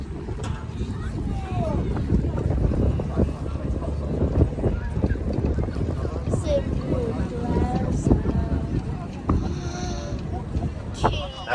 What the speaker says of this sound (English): We're going to turn the boat.